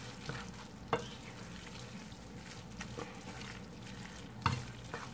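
Meat frying in a pan for stuffed bell peppers makes a quiet, continuous sizzle, with a couple of sharper clinks and stirring scrapes at the start and near the end.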